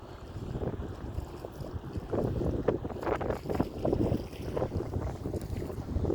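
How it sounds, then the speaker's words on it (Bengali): Water gurgles and splashes around a wooden rowing boat on a river, with a fisherman rowing nearby; steady moderate wash with gusting wind noise across the mic, no voices. "পানির কলকল শব্দ"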